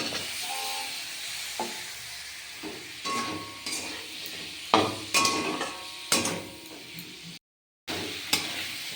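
Potatoes stirred into a pan of cooking tomatoes, with a soft steady sizzle and intermittent scraping stir sounds, fairly quiet, and a short silent gap near the end.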